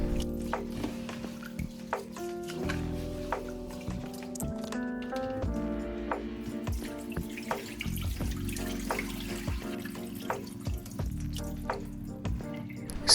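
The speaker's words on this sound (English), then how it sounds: "Add water and rinse them thoroughly." Lentils being rinsed in a bowl under a running tap, with a steady stream of water and intermittent splashing, swishing and dripping at close range.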